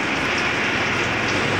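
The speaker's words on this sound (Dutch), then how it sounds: "En dat komt omdat het regent." Steady rain pours down during a trip through Thailand, a continuous dense hiss filling the air at close range with no voices or breaks.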